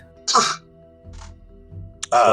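A single sharp cough stands out clearly, with quieter talk and a few short vocal sounds following.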